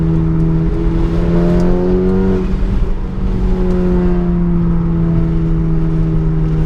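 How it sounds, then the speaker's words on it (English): An Audi A4 with a K04 turbo running on methanol revs up and eases back, a loud close four-cylinder growl with rising and falling engine pitch and a whirring undertone. "it actually sounds like a very muscular 4-cylinder. It just has this growl"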